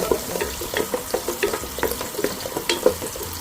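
Sliced onion, carrot and two small pieces of cinnamon saute in oil for Kerala upma, a close frying hiss broken by rhythmic spatula scrapes and taps against the pan.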